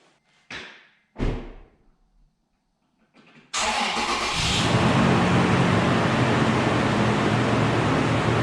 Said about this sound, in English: Go ahead and start Dad's truck.